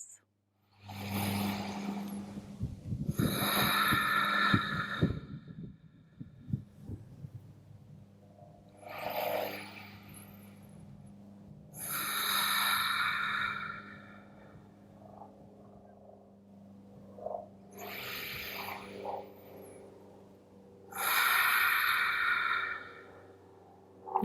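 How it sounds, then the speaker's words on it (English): Slow, deep Ujjayi yoga breaths, audible and throaty, come in long swells separated by quieter stretches, with a low steady hum underneath. "seal it with 3 deep Ujjayi breaths"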